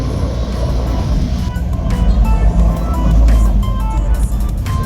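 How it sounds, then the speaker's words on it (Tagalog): Road traffic on the way up to Baguio, heard from inside a moving vehicle: a steady, loud engine and road rumble with passing cars, and a few faint high tones drifting over the low drone. "Traffic."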